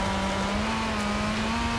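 A car engine in the Forza Horizon 4 racing game drones at a steady, sustained hum while the car drives along, with no talk over it.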